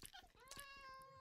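A Minecraft cat lets out a short high meow and then a longer, rising, drawn-out mew, both fairly close and clear, with faint game clicks underneath.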